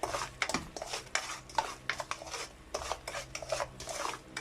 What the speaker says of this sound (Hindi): अब हम इसके अंदर अच्छे से चम्मच चलाएंगे